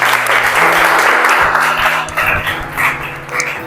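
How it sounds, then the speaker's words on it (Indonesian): Audience applause at an Islamic jurisprudence (fiqh) class presentation session. The clapping is steady and fairly close, mixed with a low humming tone and scattered noises. "Tepuk tangan yang meriah."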